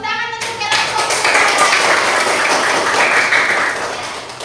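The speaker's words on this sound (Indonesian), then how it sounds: "Tepuk tangan untuk kelompok 2." A classroom audience claps for a student group after their presentation, a dense burst of hand claps rising after a brief opening and holding steadily to the end, with a voice faintly mixed in.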